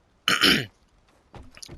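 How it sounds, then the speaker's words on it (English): One person gives a short, harsh cough burst, then a quieter rough follow-up throat sound after a brief pause, heard close up with no other sound around it. "I'm terribly sorry for the cough."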